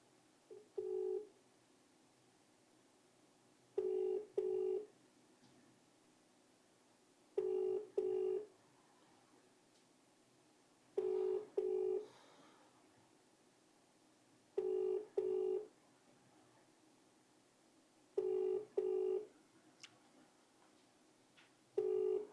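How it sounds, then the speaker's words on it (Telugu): A telephone call rings out with a repeating double-burst ring tone, each pair of beeps followed by a pause of about three seconds, heard clearly and alone at low level. "ఒకసారి నేను మాధవరం కృష్ణారావు కాల్ చేద్దాం."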